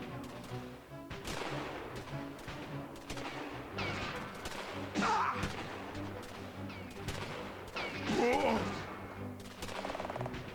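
A volley of gunfire from a firing line in an indie RPG Maker game: rapid, overlapping shots in dense bursts, loudest near the middle and end, with game voices and effects mixed around them.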